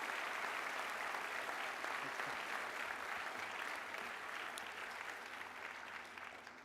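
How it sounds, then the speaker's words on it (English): Graduation commencement ceremony audience for the USC Dornsife College of Letters, Arts and Sciences applauding, a dense sustained wash of clapping throughout that slowly fades, with a brief spoken word near the start. "give yourself a huge round of applause for doing that"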